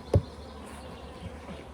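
Honeybees at the hive make a steady close buzzing hum, with a brief louder thump near the start.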